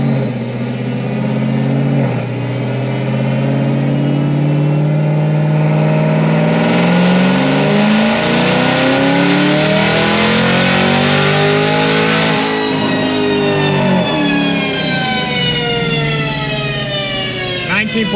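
Supercharged LT4 V8 with a Whipple 2.9 or Magnuson 2650 blower, revving loud and close on a dyno through a full pull in seventh gear, a steadily rising whine and roar that sweeps upward with harmonics and runs continuously to the end.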